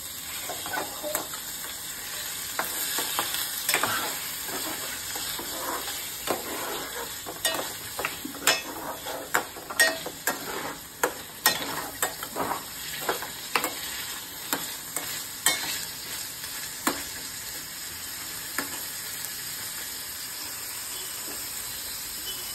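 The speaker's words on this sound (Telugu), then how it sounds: "ఇప్పుడు మనం పన్నీర్ని మిక్స్ చేసుకుందాం." Paneer is stirred into a gravy frying in a pan, with irregular scraping strokes of the spoon over a steady low sizzle and hiss, growing busier toward the middle before easing off.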